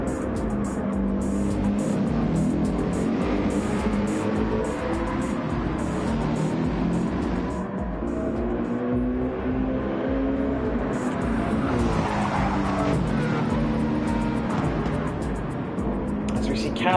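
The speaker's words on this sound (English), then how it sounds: "it's all gone on wrong now as Business Duck's been spun around" Gran Turismo 7 race cars at the Red Bull Ring drone and whine continuously at high volume, with engine tones rising and falling as they lap, under steady race commentary.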